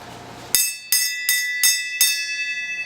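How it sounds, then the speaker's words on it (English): A metal bell struck five times at an even pace, each bright ringing strike decaying into the next, loud and close after a brief moment of low background noise. "would you ring the bell?"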